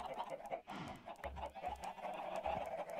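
Chickens cluck repeatedly in the video game Minecraft, modded with Thaumcraft, over a steady game-like background hum, with a few low thuds; no one speaks.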